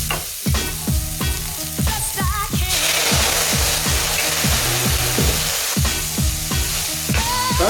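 Alcohol hits a hot pan while making vegan pad thai, with garlic already in, and bursts into a loud, roaring sizzle under rapid rhythmic scraping and stirring; close up, with no voices.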